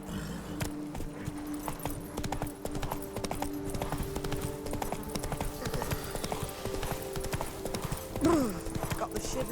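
Steady, close hoofbeats of a galloping horse in The Witcher 3: Blood and Wine, a rhythmic clip-clop that carries throughout, with a brief whinny-like cry near the end and voices talking over it.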